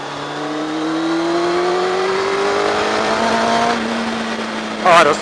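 Yamaha Thundercat motorcycle engine revving while riding, a close, steady rising drone that drops and hangs, followed by a brief voice at the end.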